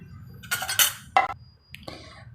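A metal lid clattering onto a pot of cooking onion and pea kachori filling, a few close clinks and rattles over a low burner hum, ending with one final light tap.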